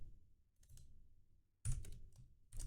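Computer keyboard key presses during 3D rigging work in software, a few soft clicks and taps heard alone, quiet and close, with short pauses between bursts.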